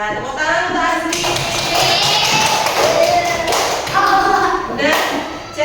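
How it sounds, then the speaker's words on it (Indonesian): Schoolchildren clap together in a fourth-grade classroom during a Pancasila lesson, a dense, sustained burst of many hands lasting several seconds, with a teacher's voice speaking over the applause. "Ya, tepuk tangan untuk Azril."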